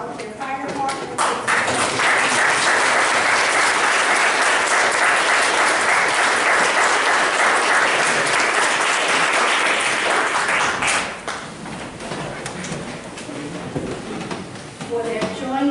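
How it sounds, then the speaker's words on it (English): An audience at a village board meeting gives the volunteer fire department sustained applause, loud and dense for about ten seconds before thinning into scattered claps as a voice returns. "I'd like to ask you now to applaud our volunteer fire department"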